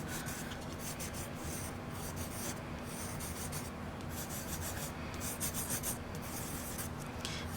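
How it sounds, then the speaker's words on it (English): Pencil pressed hard across paper to trace a design for a monoprint, a steady scratchy rubbing that continues without pause, close and fairly quiet with no voices. "go over with your pencil nice and hard to press in all those"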